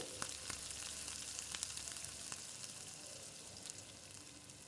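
Finely chopped onion fries in a pan for tomato rice, a faint continuous sizzle with scattered crackles and pops, with no talking.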